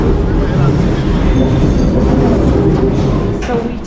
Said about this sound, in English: the metro's coming